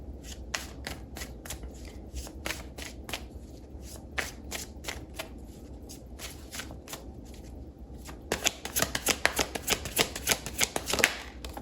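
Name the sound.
shuffling tarot-style career cards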